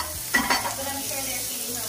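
Blackened mahi fish sticks sizzle steadily in a hot pan, a close hiss with a brief scrape near the start, no voices.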